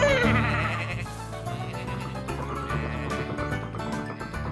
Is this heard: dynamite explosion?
no